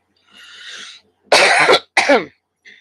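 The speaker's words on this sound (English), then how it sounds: "I'm happy to say that now when I'm coughing, it's becoming more productive." A person coughs several times: a soft breathy start, then two harsh, loud coughs close together, ending with a brief faint sound.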